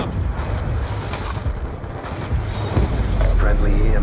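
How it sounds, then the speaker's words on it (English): A deep rumbling boom of an EMP detonation in Black Ops 2 multiplayer, a sustained loud low roar that swells toward the end, with game voice callouts over it. "Friendly EMP systems detonated."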